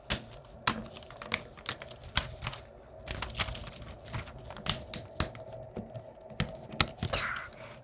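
Paper cutout being carefully torn by hand in a children's craft lesson, a series of small crisp rips and crackles spaced irregularly, close and fairly quiet, with brief pauses between tugs.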